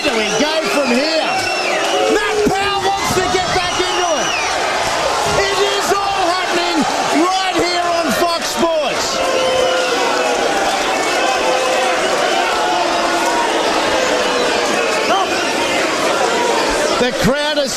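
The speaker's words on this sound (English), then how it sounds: "The crowd is standing." Boxing match crowd in a packed arena, a dense, loud, continuous roar of chatter, shouting and whoops with people on their feet, steady throughout and overlapped by commentary voices.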